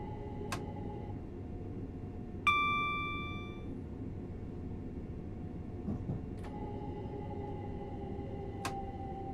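A train coasting on the Mildmay Line in the Train Sim World 5 video game gives a faint, steady low rumble, broken by a few sharp, ringing chime tones spaced apart. No one speaks.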